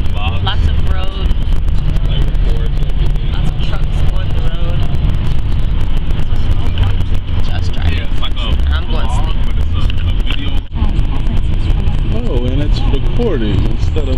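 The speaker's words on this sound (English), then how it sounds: "And we're just driving." A car drives along a road with a steady, loud rumble of engine and road noise and constant wind buffeting, a dense unbroken roar with no speech.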